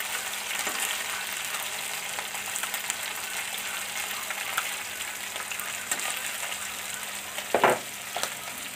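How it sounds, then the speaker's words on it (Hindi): Small chela fish fry in oil with a steady, dense sizzle close up, continuous throughout, with one brief clatter of a utensil near the end. "हमारा जो कि छोटे मछली का फ्राई जो कि रेडी हो चुका है"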